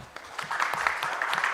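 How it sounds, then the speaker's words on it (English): Workshop attendees at a national e-payments strategy validation event clap their hands together, a brief burst of scattered applause that swells and continues faintly in a conference room. "Can each one of us give ourselves a hand clap?"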